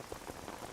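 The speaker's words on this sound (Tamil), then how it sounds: "வெளியே ஒரே மழையா இருக்கு" Heavy rain pours outside as a dense, steady hiss of drops drumming on surfaces, with no pauses and no voices.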